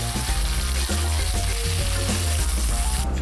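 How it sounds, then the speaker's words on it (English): Tofu pad thai with rice noodles and sauce is stir-fried in a wok and tossed with tongs, producing a loud, continuous sizzle broken by scraping and clacking from the stirring. "Then we add noodle and pad thai sauce we make already and stir fry for 2 to 3 minutes."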